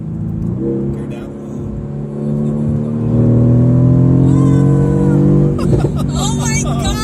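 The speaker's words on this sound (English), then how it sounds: "Oh, the backfire sound." A 2018 Mercedes-AMG GT R accelerates hard in sport plus mode, its engine roaring and climbing in pitch, then sharp crackling exhaust pops burst out as it shifts, loud and close from inside the car with a voice exclaiming.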